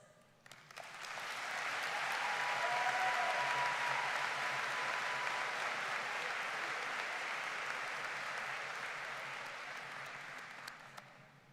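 Sustained applause from a large graduating crowd at a Georgia College and State University spring business school commencement, steady and full for about ten seconds before slowly tapering off.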